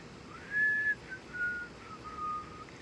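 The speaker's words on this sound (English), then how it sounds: "Whistling, a very creepy whistle." Thin, eerie whistling in a few drawn-out tones, wavering and sliding slightly, quiet and somewhat distant over a low hiss.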